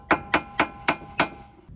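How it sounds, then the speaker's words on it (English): A hammer strikes the steering knuckle of a 2007-2009 Honda CR-V to pop out the outer tie rod, five sharp metallic blows in a steady rhythm, close and clear, with no talk. "You can hit it with the hammer here, hit it with the steering knuckle,"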